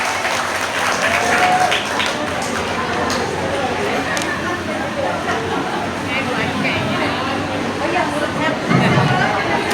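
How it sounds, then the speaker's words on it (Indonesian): Parents at a school parenting session give steady, fairly loud applause with a room full of chatter and a voice talking over the clapping. "Kasih tepuk tangan buat kalian."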